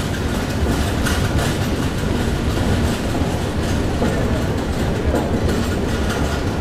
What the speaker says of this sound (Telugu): అంటే 4 నిమిషముల ముందుగానే మన విశాఖ ఎక్స్ప్రెస్ ప్లాట్ఫామ్ 1 మీదుగా చేరుకోవడం జరిగింది.